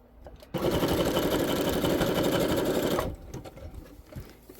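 Sewing machine stitching a fabric journal cover in a steady, loud burst of about two and a half seconds, then stopping, with quieter handling sounds before and after.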